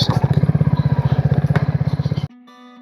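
Rapid, even putter of a motorcycle engine close by, pulsing steadily for about two seconds before abruptly stopping and leaving a faint hum.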